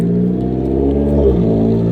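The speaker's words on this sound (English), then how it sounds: "That's a very noisy car." Loud car engine revving past on a downtown street in Salem, Virginia, a steady close rumble with a slight pitch shift as it goes by, no talk.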